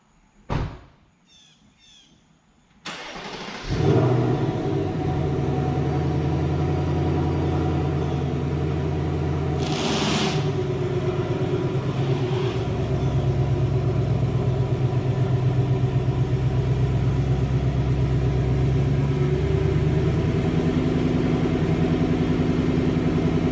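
A Ford Mustang GT engine starts after a few quiet clicks, then rumbles steadily and fairly loudly as it drives, with a faint bird chirp early on.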